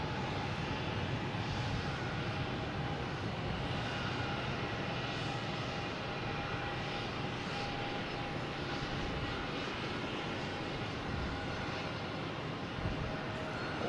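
A Delta A321neo jet airliner roars steadily at Boston Logan airport, a broad, constant engine rumble heard from some distance. It holds an even level throughout.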